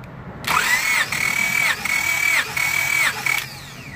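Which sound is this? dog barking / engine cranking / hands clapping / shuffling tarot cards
engine cranking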